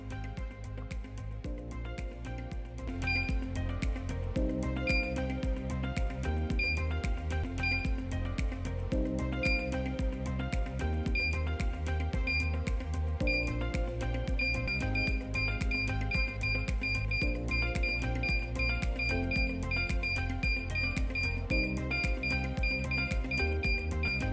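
A Deep Seeker five-system gold metal detector gives a steady electronic hum over a bed of tone, with short high beeps repeating in an even, quickening pattern.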